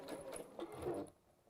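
A sewing machine stitches fabric in a short whirring run with soft mechanical rattle, close by, then cuts off into quiet; no one speaks.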